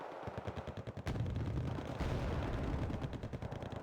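Rapid missile fire in a video game, a loud burst of rattling, explosive bangs in quick succession that continues steadily without pause.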